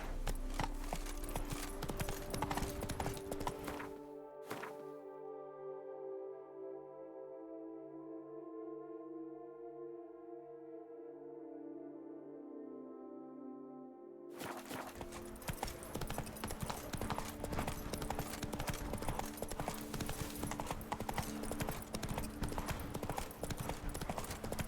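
Roach, a horse in The Witcher 3: Wild Hunt – Blood and Wine, gallops with rapid, steady hoofbeats that carry loudly through the clip, falling away to a quieter stretch in the middle before the pounding rhythm returns.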